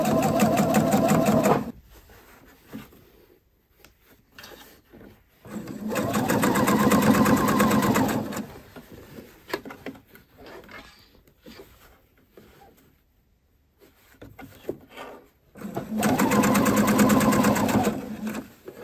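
Sewing machine stitching a shirt cuff onto a sleeve in short bursts, three loud runs of steady stitching separated by quiet pauses with faint handling noise.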